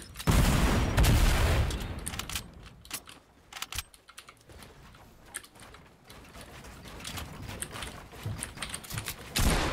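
Gunfire crackles through a Fortnite battle royale fight, with a loud opening burst followed by scattered sharp shots and rapid mechanical clicks that grow busier toward the end.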